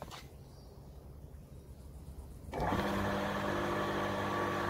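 Repaired pool pump motor starting as power returns: a low hum with light clicks gives way abruptly to a louder, steady electric whir with a tonal drone, close by and continuous to the end.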